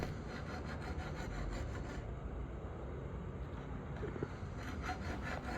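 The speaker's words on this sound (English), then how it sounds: "finer and finer grits to refine that edge and get it to a really nice sharp edge" A knife blade drawn back and forth over oiled Lansky sharpening stones, a steady close rasping scrape in repeated strokes, quiet and without talk.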